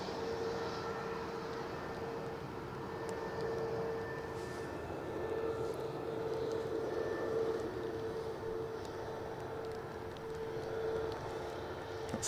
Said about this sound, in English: We'll stay with this plane at the minute because obviously it's still on the runway.